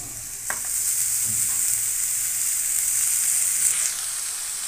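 Red spinach fries in a pan, producing a continuous bright sizzle with a few stirring clatters and soft scrapes throughout.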